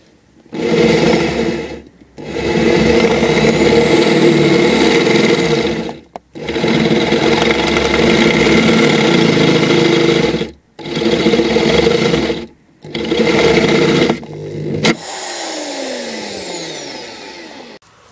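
A power cutter saws through the floor pan and vinyl covering of a Jaguar X-Type, loud and close in several long grinding bursts separated by brief pauses, ending with a lighter scraping sound.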